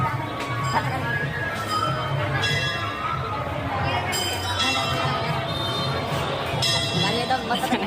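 A large bell rings out amid a busy crowd at a fair in Bemetara, its metallic tone sustaining over chatter and clinking in a lively outdoor gathering.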